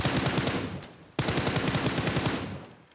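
Rapid gunfire in PUBG Mobile during a firefight, a dense run of shots that breaks off briefly and resumes, loud and close with no voices.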